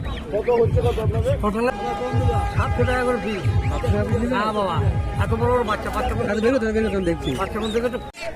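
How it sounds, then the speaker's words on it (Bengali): Local desi ducks quack repeatedly amid busy chatter at a village livestock market, with voices talking loudly over the birds throughout. "এখানে কিছু দেশি হাঁস আছে"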